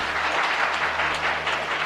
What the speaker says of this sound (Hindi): सही उत्तर के लिए जबरदस्त तालियां।